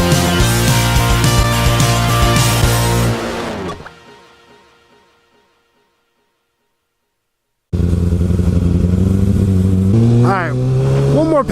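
Kawasaki ZX6R sport motorcycle accelerating hard on a test ride, a loud close engine roar that winds up, cuts out into a few seconds of silence, then returns with rising revs and gear changes.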